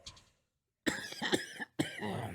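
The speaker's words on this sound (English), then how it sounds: "Boy, you struggling with that coughing." Several sharp, harsh coughs in quick succession, close and loud, after a brief quiet gap, with a short pause before a final cough burst.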